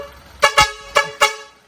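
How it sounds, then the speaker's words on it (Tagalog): Four quick, loud honks from a dual trumpet air horn fitted to a car, each a short bright two-tone blast in a fast uneven rhythm. "Sir, papindot nga no, air horn natin."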